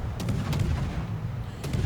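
Heavy booming naval gunfire in the video game World of Warships, a muffled rumbling soundscape with a few deep thuds spaced apart over a constant low roar.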